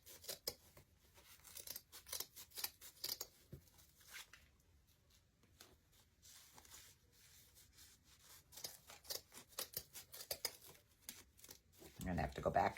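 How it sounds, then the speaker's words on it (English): Scissors snip fabric from the back of a small embroidery hoop in quick close bursts of crisp cuts separated by pauses, with someone talking quietly at times. "Cut off your excess fabric from the back here."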